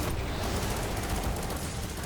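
Dense, continuous gunfire from a Destiny 2 firefight, a steady rattle of rapid shots blending into a loud, unbroken barrage with no pauses across the whole stretch.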